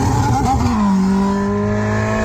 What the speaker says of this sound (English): This little thing plugs into the OBD port of your car, enabling you to sync the engine's RPM to supercar sounds in real time.